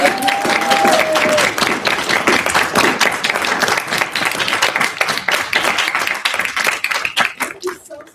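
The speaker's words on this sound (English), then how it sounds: "I think some round of applause here" Audience applause at a literary talk by an author, a dense, steady wash of clapping hands from a full room that holds strong for several seconds and then tapers off near the end.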